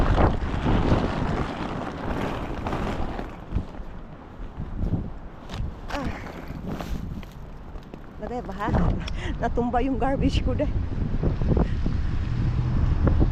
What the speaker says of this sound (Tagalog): Sobrang hangin. Sobrang mahangin talaga.